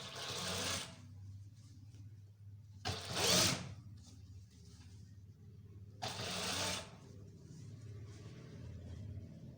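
A sewing machine stitches a sleeve onto a shirt in short bursts: three loud whirring runs of about a second each, separated by quieter pauses with a low background hum.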